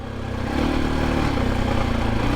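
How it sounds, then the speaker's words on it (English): A Husqvarna FE501s motorcycle fitted with a Rekluse CX clutch gets a quick throttle blip, its engine note swelling within half a second, then holding at a steady, close, throbbing drone. "All you got to do is just give a little blip on the throttle, and I can feel the engine braking cutting back in."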